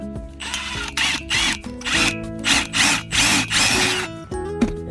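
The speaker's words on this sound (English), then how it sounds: "I like the impact because it goes so much faster than drill." An impact driver drives holes for rail brackets in short, loud bursts of rattling, hammering whir, about six pulses separated by brief pauses, close to the microphone.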